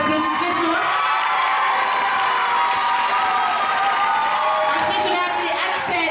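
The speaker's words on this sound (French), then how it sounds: "on l'applaudit très fort" An audience at the Miss Ronde Poitou Charente 2013 election cheers and applauds loudly and steadily, with shouts and voices mixed into the crowd noise throughout.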